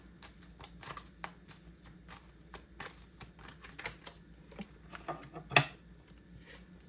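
Goddess oracle cards are shuffled in a quiet room, giving a soft run of papery riffles and taps with one sharper snap near the end, faint and alone.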